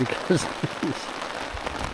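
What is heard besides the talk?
persistent rain at lakeside camp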